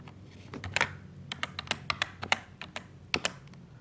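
Keystrokes on a computer keyboard while a formula is entered in an Excel spreadsheet, a quiet run of separate clicks in an irregular rhythm with a few quick clusters, close up, with no voices.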